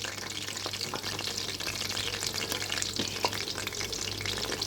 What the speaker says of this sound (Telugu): ఒక 2 నిమిషాలు వేగిన తర్వాత వెనక తిప్పుకొని వేపుకోవాలి